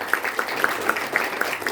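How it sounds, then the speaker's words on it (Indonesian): Church congregation applauding together, a steady dense wash of clapping with a faint rhythmic pulse running through it, moderately quiet and diffuse as if from across a large room. "Tepuk tangan buat Tuhan Yesus"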